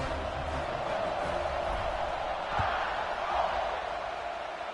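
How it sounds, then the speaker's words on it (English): Stadium crowd buzzing in an NCAA college football video game after a score, a broad steady roar of distant voices with small swells, continuous throughout. "this crowd is buzzing after that last score"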